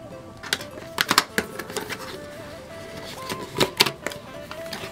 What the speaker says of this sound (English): we will go ahead and just cut the tape and get it open